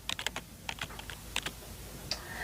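Quick taps on a phone's on-screen keyboard while entering a search in the Play Store app, a short scattered run of light, close clicks in a quiet room.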